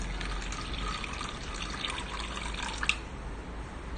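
Liquid soap mixture poured into a six-cavity soap mold gives a soft, steady trickling and dribbling sound, close and fairly faint over a low background hum.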